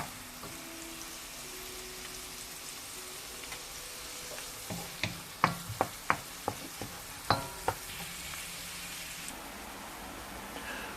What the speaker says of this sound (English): So we keep frying off our onions and our garlic.